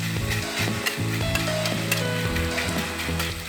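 Pork belly sizzles on a grill at a campsite with a dense, constant frying hiss and crackle. A low, steady hum and tonal background sound run underneath, and no one speaks.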